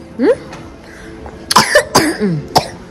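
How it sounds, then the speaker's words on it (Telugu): A few harsh, close coughs in quick succession, following a brief vocal sound at the start. "వచ్చింది దగ్గు"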